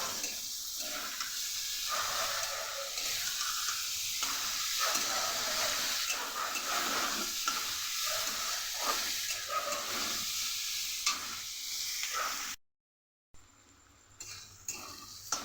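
Capsicum, chopped onion and tomato fry in a pan for fried rice made from leftover rice, giving a soft continuous sizzle and hiss broken by rhythmic stirring scrapes, then a short silence near the end.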